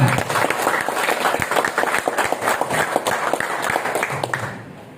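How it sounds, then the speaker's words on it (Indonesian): An audience at an Indonesian seminar claps in a thick, continuous burst of applause, close and fairly loud throughout, then fades out in the last moment. "Tepuk tangan."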